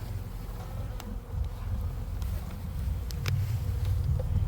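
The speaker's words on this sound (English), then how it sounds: "Look at all these bees!" A swarm of honeybees from a new package being installed into an outdoor hive buzzes steadily and loudly, a dense continuous drone that swells slightly toward the end.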